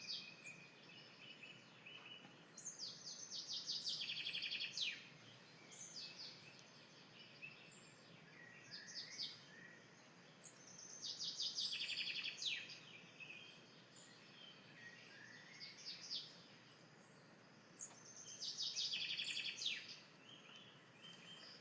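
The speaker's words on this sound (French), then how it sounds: "avec le chant des oiseaux derrière" Birds singing outdoors in the background, bursts of chirping and warbling phrases recurring every few seconds over a quiet, low hum, with no talking.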